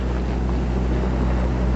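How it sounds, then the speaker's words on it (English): Steady blustery wind rushing with a low rumble, constant and fairly loud throughout, no voices. "Sure is windy tonight."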